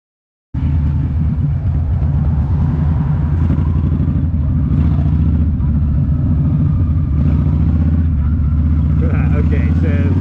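A Yamaha V-Star 1300 motorcycle rolls downhill, its engine a loud, steady low rumble with wind noise that holds without a break from start to finish.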